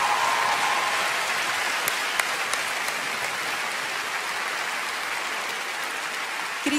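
Sustained applause from a large audience at a Swiss TV talent show semi-final, a dense steady wash of clapping that holds for several seconds at even loudness.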